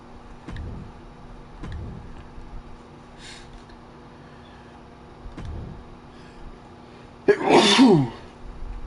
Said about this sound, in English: I have a sneeze there.